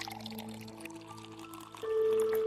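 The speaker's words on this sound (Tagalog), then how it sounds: "kukuha ako ng tubig mo." Cold water is poured into a glass, with a soft splash that turns into a rising, ringing filling tone near the end.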